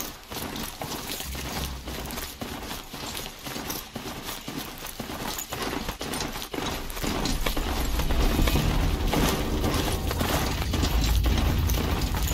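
Continuous clip-clop of horse hooves in a steady trotting rhythm from the video game Horizon Zero Dawn, joined by louder rumbling and mechanical clatter in the second half.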